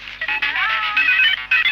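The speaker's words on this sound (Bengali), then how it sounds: "কার ফোন বাজে?" A mobile phone ringtone plays in a classroom, a short bright electronic melody ringing loud and close with brief gaps, no voices over it.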